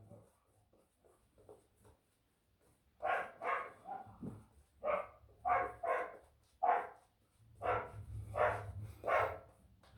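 A dog barks repeatedly in bursts, first softer and scattered, then loud, close barks in quick clusters of two and three, with no talking over them.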